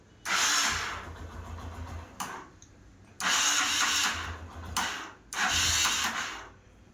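A Hero Honda Karizma R motorcycle's engine, fresh from a full restoration, cranks and fires in three loud close bursts of revving, each dropping back to a low steady idle, with no talk over it.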